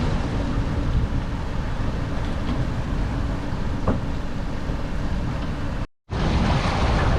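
Rough seas with 22–23 knot winds around a sailing boat, a loud continuous roar of surf and wind buffeting the microphone, broken by a brief dropout near the end.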